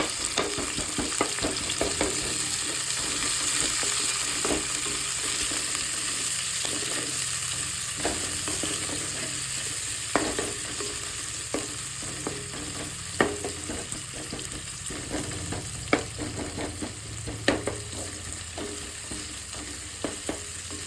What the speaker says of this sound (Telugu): ఆనియన్స్ కొంచెం మగ్గాలి. గోల్డెన్ బ్రౌన్ కలర్ వచ్చేంత వరకు మనం ఆయిల్లోనే ఫ్రై చేసుకోవాలి ఆనియన్స్ని.